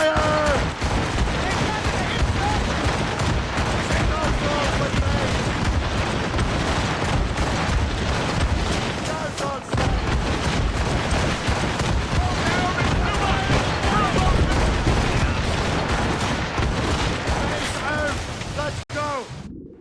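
Naval cannon broadsides and gunfire boom almost without pause in an Assassin's Creed Rogue sea battle, loud and dense throughout. Shouted crew voices are mixed into the barrage.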